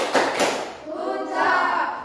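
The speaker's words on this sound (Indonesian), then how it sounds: "Kasih tepuk jempol dulu, tepuk jempol" Schoolchildren in a classroom do a thumb-clap cheer. A few quick claps and taps come first, then children's voices chant along over them at moderate loudness.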